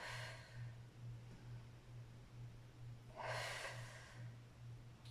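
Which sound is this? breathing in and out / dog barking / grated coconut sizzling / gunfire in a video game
breathing in and out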